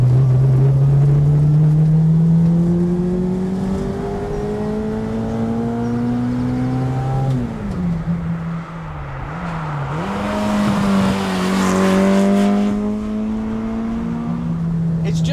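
A Fiat 600 Abarth engine revs hard and drives, its loud, buzzy tone climbing steadily through the gears and dropping at each shift, then pulling up again, heard close from inside the car.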